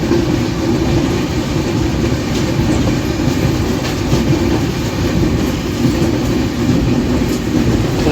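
A passenger train bound from Kolkata to North Bengal runs on its rails with a loud, steady rumble and rhythmic clickety-clack, heard from on board with no talk.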